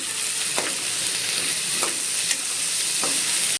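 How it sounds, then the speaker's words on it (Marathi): Onion fries with whole spices in a hot pan, a steady loud sizzling hiss broken by a few soft scrapes of a spatula at regular intervals, with no voices. "आता मी ह्याच्यात कांदा ॲड केला आहे तो पण मी चांगला भाजून घेते"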